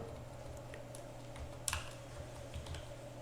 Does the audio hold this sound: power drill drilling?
no